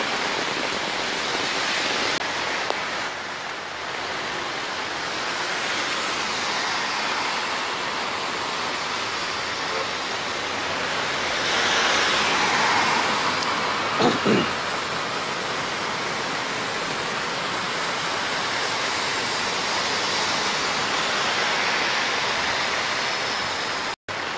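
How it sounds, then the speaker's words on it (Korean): Heavy rain pours down on a neighborhood street at night in a steady, dense hiss that swells slightly midway, close and loud throughout, with no voices. "아, 갑자기 비 겁나 많이 내리네."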